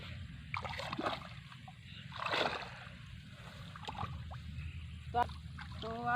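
Wading through a flooded rice paddy toward a pond, with repeated close splashes and sloshing water over a steady outdoor background, and a voice speaking faintly at times.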